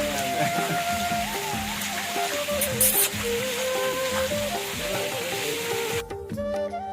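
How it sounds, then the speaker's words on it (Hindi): Steady rain pours down in a village on a morning after a night of heavy rain, a continuous hiss of drops on surfaces with music-like tonal lines running through, near and fairly loud throughout. "पूरी रात हो गई है बारिश होते हुए, पूरी रात बारिश लगी रही है। अभी सुबह का टाइम है तो अभी भी लगी हुई है।"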